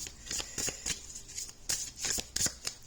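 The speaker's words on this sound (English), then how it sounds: "I'm going to do one of those big shuffles. I think it's called a riffle shuffle." Tarot cards riffle-shuffled in a series of quick crisp ruffling bursts, several distinct flutters in close succession, near and clear with no talking.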